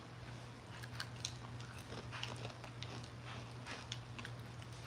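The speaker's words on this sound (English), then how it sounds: "Can y'all hear the crunch?" A crunchy snack being bitten and chewed close up, with repeated crisp crunches over a steady low hum, no talking.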